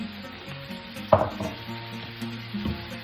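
Tomatoes for shakshuka drop into a hot pan with a sudden loud sizzle that settles into steady, moderate frying, with a few faint stirring scrapes and no speech.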